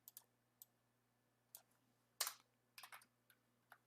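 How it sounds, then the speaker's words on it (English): Scattered keystrokes on a computer keyboard at a desk, quiet and intermittent, arriving in short bursts with pauses between them and a couple of louder clusters of taps. "I should stop typing and just start replacing stuff"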